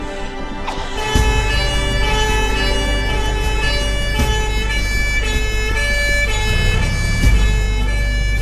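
An ambulance siren wails continuously with a steady, piercing tone over the rumble of a fast-moving car, growing louder after a second and staying close and prominent throughout.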